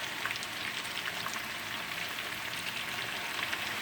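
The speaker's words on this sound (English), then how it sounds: "Now it's time to add the broth into our jambalaya" Broth pouring into a pot of Cajun brown jambalaya makes a continuous, even splashing hiss that stays steady from start to finish, with no one talking.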